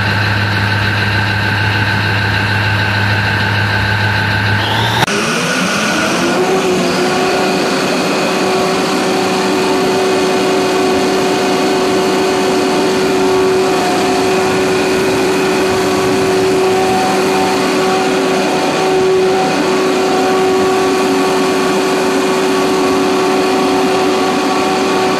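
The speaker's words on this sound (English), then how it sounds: "So now this engine working on idle mode, and now it will be go on full speed." A diesel generator engine idles with a low, steady drone, then abruptly spools up to full speed at about five seconds, settling into a loud, continuous high-pitched whine and hum that holds steady throughout.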